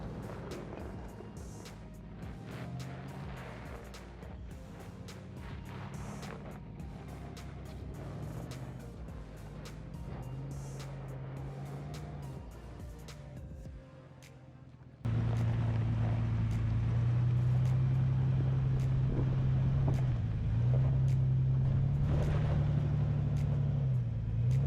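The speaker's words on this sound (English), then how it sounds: "The Silverado next tries the other side" Chevy Silverado truck climbing a steep, rutless off-road slope, its engine droning steadily and then swelling to a louder, strained roar as it pushes up the grade.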